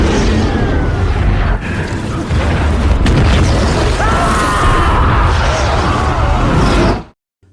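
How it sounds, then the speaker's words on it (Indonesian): A massive, loud explosion of an oil refinery rumbles and roars with crashing debris, the deep boom sustaining for several seconds before cutting off abruptly. "akhirnya terjadilah ledakan yang super dahsyat"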